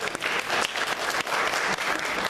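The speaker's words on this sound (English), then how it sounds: "You feel free to applaud for that." An audience claps steadily throughout, a full, even wash of applause from many hands with no voices heard.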